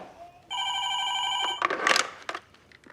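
Telephone ringing indoors, a single electronic ring lasting about a second, followed by faint handling noises and rustling.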